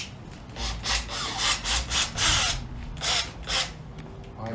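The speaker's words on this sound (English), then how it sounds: "Drill a counterclockwise pilot hole into the dimple." A drill bores a counterclockwise pilot hole into a dimple on a 1980 Honda CB750F Super Sport motorcycle, working in about eight short, loud bursts with brief pauses between them.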